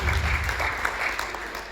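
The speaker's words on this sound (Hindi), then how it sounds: "एक बार आप सभी अपने लिए जोरदार तालियां बजा लीजिए" Audience at a youth parliament event breaking into strong applause, a dense wash of clapping that is loud at first and eases slightly over a couple of seconds.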